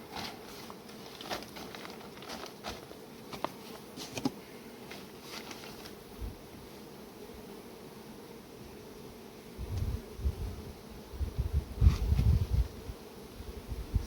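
Honey bees buzzing in an opened hive colony during inspection, a faint steady hum with light rustling of bees and frames, and louder brief handling bumps near the end.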